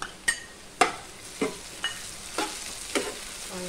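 Tomatoes sauté in a pan in a dark kitchen, a gentle sizzle under six or so sharp, evenly spaced scrapes and clacks of a spoon stirring against the pan, close by and without talk.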